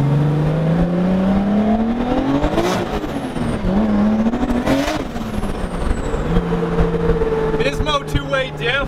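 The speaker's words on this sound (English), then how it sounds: "going for a rip once again in the 240" A Nissan 240SX S13 with an RB25DET engine and two-way diff being driven, engine note climbing and dropping through revs with gear changes, loud and close, with some talk mixed in.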